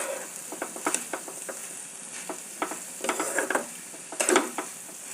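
A bhaji of boiled figs and potatoes fries softly in a pan as a spatula scrapes and taps in quick irregular strokes over a low, quiet sizzle.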